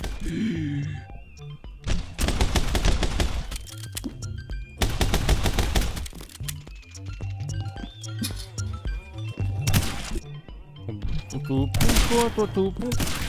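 Rapid video-game gunfire from My Friend Pedro, with bursts of automatic shots and single cracks separated by short pauses, loud and punchy over game music, with a voice talking in between.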